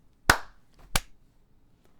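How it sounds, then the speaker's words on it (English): Two sharp, close claps about two-thirds of a second apart, followed by the start of a third, made on a count of three over a Discord call, each a crisp isolated smack against near silence. "On the count of 3, clap"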